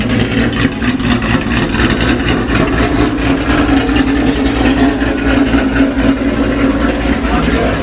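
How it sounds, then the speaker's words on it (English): A Ford GT500 engine with a Ford Racing Sport axle-back exhaust idles with a deep, rumbling, loud exhaust note, steady and close throughout, with a slightly lumpy pulsing rhythm. "That is a nasty idle."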